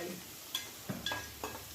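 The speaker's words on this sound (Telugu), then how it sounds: "పచ్చెనగపప్పు అన్నీ కూడా వేసుకొని మళ్ళీ ఒకసారి కలుపుకోవాలి." A spoon scrapes and stirs cumin, coriander seeds, fenugreek and chana dal in a pan for tomato chutney, a few soft scraping strokes over a quiet background.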